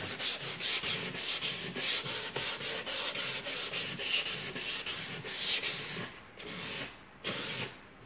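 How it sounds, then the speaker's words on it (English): Sandpaper wrapped over fingertips is worked by hand along the cut, routed edge of primed MDF. Quick, rhythmic back-and-forth scratching strokes are heard close up; they slow into a few separate strokes near the end, with no talking. "I would just use a piece of sandpaper on my fingers"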